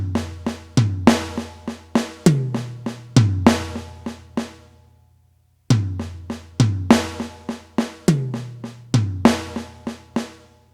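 Drum kit playing a funky paradiddle fill around the snare and toms, crisp close strokes stepping down in pitch across the drums, repeated twice with a decaying pause between the two passes.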